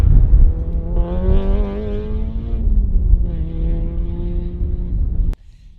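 A Honda Civic EF fitted with a B18C engine from a 1998 Integra revs hard twice, the pitch climbing and holding before dropping, loud and close, then cutting off abruptly.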